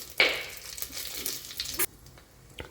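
Mustard seeds and cumin hitting hot oil for a Kathiyawadi vaghareli khichdi tempering, giving a sharp sizzling burst at the start that settles into a lighter crackle, close up with no talk.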